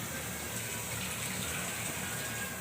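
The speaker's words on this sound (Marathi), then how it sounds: "त्यातलं गरम पाणी काढून" Hot water poured off cooked hakka noodles in a home kitchen, a steady, fairly quiet rushing gush of draining liquid with no talking.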